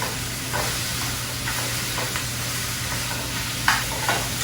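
Noodles sizzle in a pan with garlic, ginger and scallions, a continuous close frying hiss broken by occasional stirring scrapes and soft clicks.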